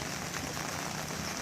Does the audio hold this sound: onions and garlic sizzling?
no